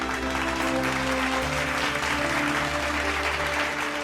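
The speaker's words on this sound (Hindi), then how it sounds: "तालियां।" An audience claps in steady, sustained applause over a held musical backing during a televised dance face-off segment.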